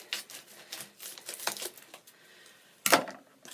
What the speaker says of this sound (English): I am going to cut into it right now and see what we got.